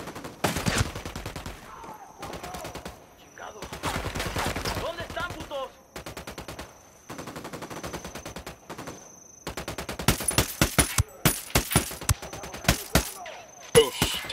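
Gunfire in the video game Ghost Recon Wildlands comes as repeated bursts of rapid automatic shots with short pauses between them, then a closing run of sharp, separate cracks, loud and close.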